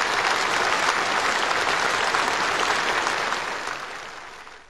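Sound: warm applause from party congress delegates

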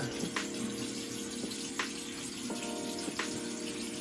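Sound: running water while washing turmeric off the face

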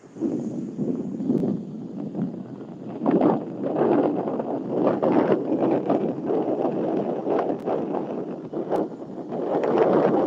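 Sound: strong wind and sea surge

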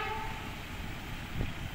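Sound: train passing by

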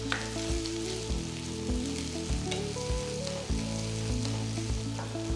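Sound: sautéing ginger, garlic and green chili in a pan

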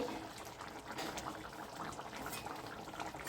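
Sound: lentils and raw papaya boiling in a covered pot

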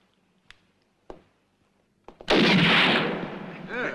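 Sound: gunshot in a sharpshooting contest

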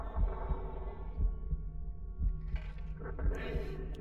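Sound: heartbeat sound in video game Little Nightmares

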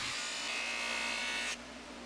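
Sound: buffing wheel polishing a steak knife blade

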